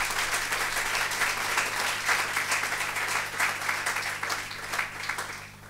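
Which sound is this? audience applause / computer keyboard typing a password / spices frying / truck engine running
audience applause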